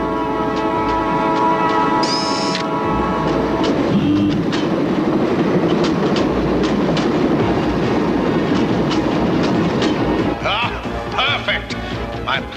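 A train in the animated series James Bond Jr. rumbles steadily along the rails with a loud, continuous roar and rhythmic clacking, a brief horn-like tone early on, and voices talking over it near the end.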